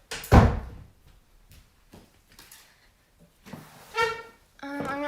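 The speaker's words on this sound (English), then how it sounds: "let me just close the door" An indoor door is pushed shut with one loud thud, followed by quieter knocks and shuffles and a faint creak or latch rattle near the end.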